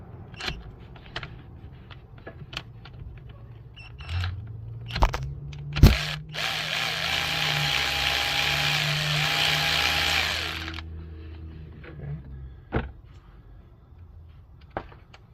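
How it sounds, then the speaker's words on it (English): A power tool whirs steadily for several seconds while loosening a 10mm bolt on the power steering pump of a 2016 GMC Acadia Denali, framed by nearby metallic clinks and knocks before and after. "let's see if I can get this 10mm bolt off here"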